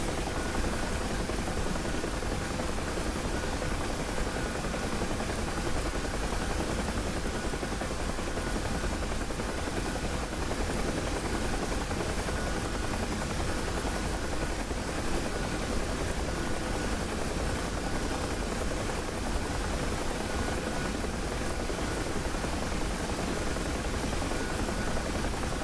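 Bell UH-1 Huey helicopter flying over the Marianas map in DCS, a constant loud rotor and turbine drone with even whine, unbroken throughout.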